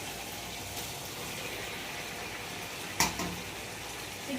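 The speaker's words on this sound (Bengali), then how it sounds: "চিকেনটা ভালো করে কষিয়ে নেবো।" Chicken kosha with tomatoes frying in a pan, a steady close sizzle running throughout with a brief clatter of a utensil against the pan partway through.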